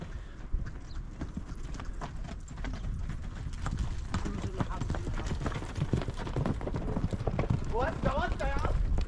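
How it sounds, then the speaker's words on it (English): Horses' hooves clip-clopping on a path near the pyramids at Giza, a rapid run of sharp hoof clops passing close by, with a horse whinnying and voices talking nearby. "Trying to stay out of the way of the camels and horses that ride through this way."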